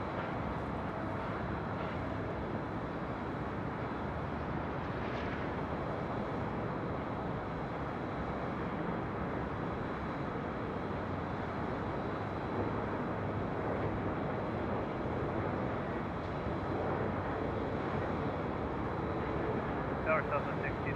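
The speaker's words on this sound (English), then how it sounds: "This is Delta 737-800." A Delta Boeing 737-800 airliner on runway 24 left at LAX, heard from a high rooftop as a steady, continuous broadband jet roar with wind, constant in level throughout with no clear rise or fade.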